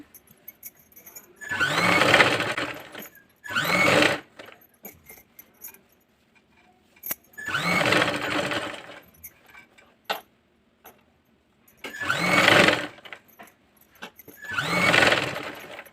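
A sewing machine stitches a frog-shaped back neck design on cloth in bursts of steady whirring, five runs of one to two seconds each with short quiet pauses between them and no voices.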